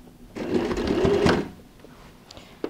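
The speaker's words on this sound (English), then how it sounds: "go and place it at the edge, and you just sew a stitch on the top" A sewing machine stitching bias binding onto the edge of a fabric tote bag runs in a single short burst of quiet, rapid mechanical whirring, then stops and falls near silent.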